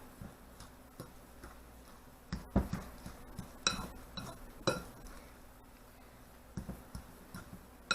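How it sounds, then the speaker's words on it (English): A fork works meatball mixture in a bowl, giving irregular light ticks and clinks of metal against the dish with soft squelchy pauses between, close and alone without talk. "And I just mix it with a fork like so, till it's all completely mixed in."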